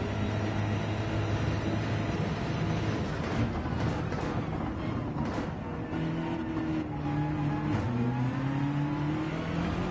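The BMW M6's V8 engine drones loud and steady in a racing video game, its pitch rising and falling through gear changes, with other cars' engines mixed in and no talk.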